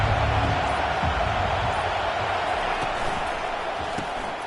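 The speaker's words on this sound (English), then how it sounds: "This crowd bringing the energy and noise early." Steady crowd roar fills a large stadium at an Alabama vs Michigan college football game, a continuous loud wash of cheering and chatter with no clear breaks.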